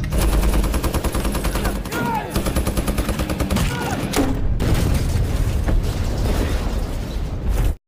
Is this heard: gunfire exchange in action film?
yes